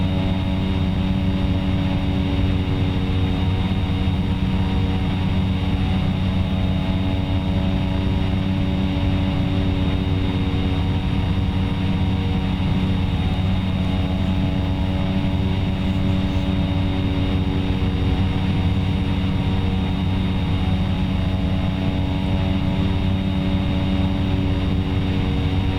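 Propeller aircraft engine in flight in the X-Plane 11 simulator, climbing with prop RPM being eased back; a loud, constant droning hum with stacked harmonics, steady and alone for the whole stretch with no voices.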